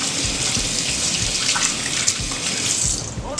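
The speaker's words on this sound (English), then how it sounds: "I'm gonna wash my hands." Hands being washed under a running kitchen tap while cooking puff-puff: a steady, close, continuous rush and splash of water that fills the whole stretch, with no talking.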